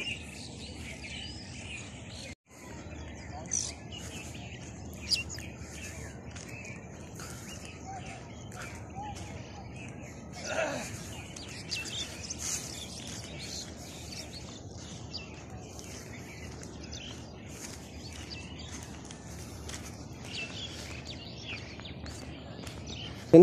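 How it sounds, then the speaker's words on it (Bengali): Scattered bird chirps, thin and mostly distant, over a soft hiss of insects on a quiet, foggy early dawn outdoors. "পাখির কিচিরমিচির শব্দেই মনটা ভরে যায়"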